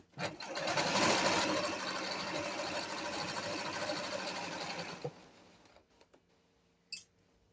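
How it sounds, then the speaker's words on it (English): A sewing machine runs in a fast continuous whir of stitching for about five seconds, then stops, followed by a few small clicks and a brief rattle. "My sewing machine says she don't feel like that."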